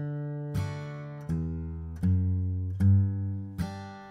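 Acoustic bluegrass guitar plucking a few separate low bass notes with downstrokes, each ringing out before the next, sparse and close, with no talking.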